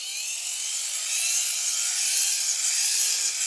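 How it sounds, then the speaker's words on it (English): A homemade hand-crank gear head motor generator is turned steadily, giving a continuous high whirring whine that holds nearly constant and close, with no speech. "So let me pick it up and crank it."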